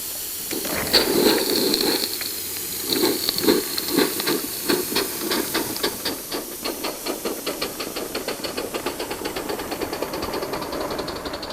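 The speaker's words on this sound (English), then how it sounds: "we're not talking about toys here, we're talking about real live steam locomotives" A live steam Gauge 1 garden railway locomotive running, with steady hissing steam and rhythmic chuffing exhaust beats that start uneven and settle into a quick, regular pulse, heard up close with no talk.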